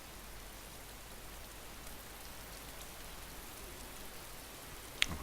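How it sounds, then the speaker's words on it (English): Steady rain falls in the survival video game DayZ, a constant even hiss with no voices, and a single sharp click near the end. "Oh, it's raining. That's going to be annoying."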